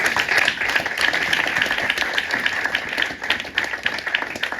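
Sunday church congregation applauding in praise of the Lord during a worship service: dense, sustained clapping from many hands, loud and close, holding steady throughout with a faint murmur of voices beneath.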